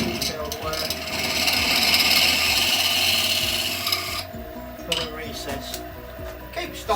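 Small chisel cuts a wooden bowl spinning on a lathe, giving a close, hissing scrape with a steady motor hum underneath that eases into lighter intermittent scraping.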